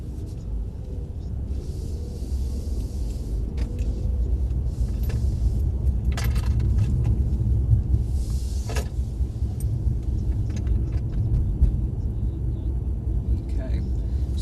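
Mercedes CLS coupe driving on a track, a low engine rumble building gradually as it pulls away, with occasional interior clicks and knocks and voices talking inside the cabin.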